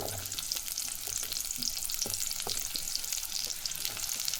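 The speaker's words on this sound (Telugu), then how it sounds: "కొంచెంగా ఆయిల్, రెండు ఎర్రగడ్డలు" Two onions fry in a little oil in a kadai, a steady close hiss and sizzle with occasional stirring scrapes underneath, no voices.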